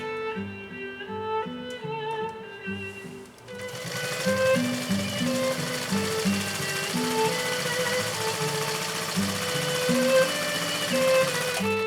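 Vintage Brother 1241 sewing machine stitching, a fast steady mechanical chatter that starts lighter and then runs louder and denser for most of the span, close up with no voices.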